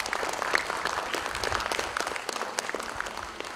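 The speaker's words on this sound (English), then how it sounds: "A round of applause, please." A short burst of audience clapping at a student career counselling event, steady dense applause from many hands throughout.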